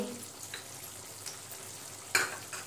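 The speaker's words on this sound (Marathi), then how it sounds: "इथे आपण गरम मसाला किचन किंग टाकून घेऊ" Sautéed vegetables frying in a pan give a faint, steady sizzle with a few soft stirring scrapes and one sharper clink near the end as garam masala and Kitchen King spice are added.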